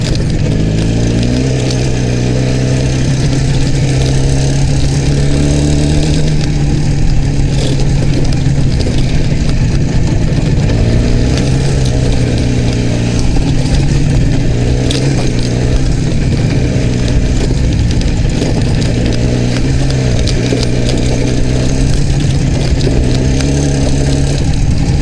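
An IZh Jupiter 5 motorcycle engine runs loud and close throughout, a steady low throbbing drone with slight shifts in pitch and no breaks.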